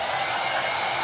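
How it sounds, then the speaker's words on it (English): A cheap $4 hair dryer blows steadily on high heat while drying coats on a bluegill fly pattern, a loud, close, continuous whoosh with no breaks and no talking. "I got like this hair dryer"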